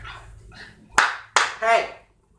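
Dogs barking at home: two sharp, loud barks in quick succession followed by a shorter, whining bark, close to the listener with no talk.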